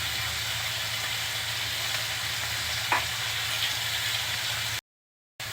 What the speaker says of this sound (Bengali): এখন পরিমাণ মতো রান্নার তেল দিয়ে দিচ্ছি।